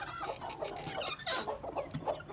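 An Aseel hen clucks repeatedly at close range, short throaty notes in an uneven rhythm with a sharper squawk midway.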